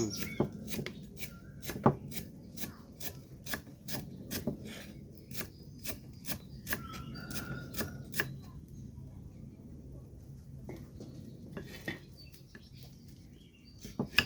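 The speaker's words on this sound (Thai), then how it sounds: "หั่นตะไคร้" A knife slices lemongrass on a board in quick, crisp, regular cuts that pause now and then, close up and fairly clear.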